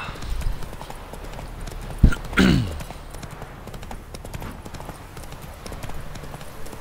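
A single horse's hooves clop in a quick gallop in The Witcher 3: Wild Hunt, rising into a brief loud burst near the middle, with a steady background bed throughout.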